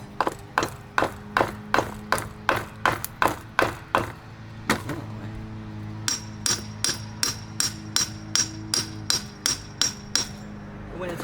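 A mini sledgehammer drives a trailer bearing race into the hub of a 14 ft Starcraft fishing boat trailer, striking metal on metal in two runs of rapid, evenly spaced sharp blows, close and loud, with a brief pause between.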